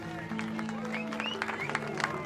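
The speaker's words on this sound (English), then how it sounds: "And all these people that were there waiting just started clapping." A crowd waiting at a dock breaks into applause, a steady patter of clapping with scattered cheers and voices mixed in at moderate distance.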